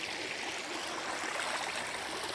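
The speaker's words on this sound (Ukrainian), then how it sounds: "Це ось річка, ту річка." A mountain river flows through a wooded hollow near the Lumshory waterfalls in Ukraine, a steady, close, full rushing of water that continues unbroken with no voices.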